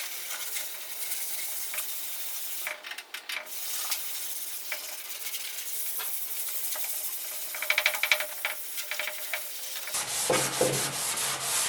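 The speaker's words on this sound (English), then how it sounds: "We got to scuff the shine off this" Continuous abrasive rubbing as the painted door of a 1947 Ford pickup is scuffed and sanded, steady and close with brief scratchy strokes, shifting to a harsher, louder grind near the end.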